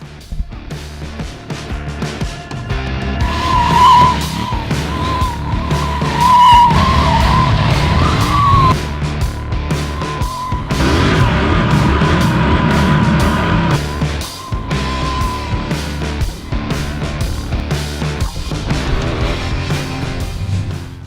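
A KTM Duke 790 motorcycle revs loudly and drifts nearby, its engine note rising and falling in long sustained surges with a faint whining tire tone.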